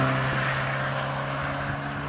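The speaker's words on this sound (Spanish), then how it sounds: "Durante décadas, este fue el sonido y la forma del coche del pueblo. El Volkswagen Escarabajo." A Volkswagen Beetle engine runs steadily, a continuous loud low drone with a strong steady hum and no speech over it.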